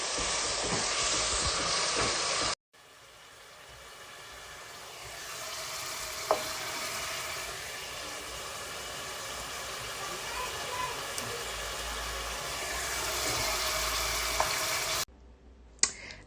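Tomato sauce with oil and water simmering for madesu white beans, a soft steady hiss and gentle bubbling, preceded by a louder burst of sizzling and closing with another brief loud sizzle.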